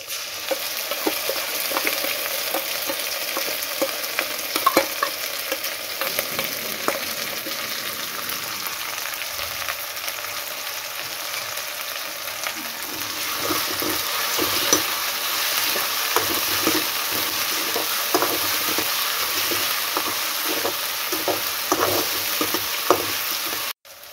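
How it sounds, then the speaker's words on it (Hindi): Ginger garlic paste fries with onions in a pan, a loud, steady sizzle with scraping stirs throughout, close up and without any talking. "ये लहसुन और अदरक का पेस्ट है, मैं अभी इसको डाल देता हूँ"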